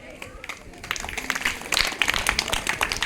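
Audience applause at a village Sankranti celebration program run by a school, a dense patter of many hands that builds and grows louder over about three seconds, with faint voices mixed in.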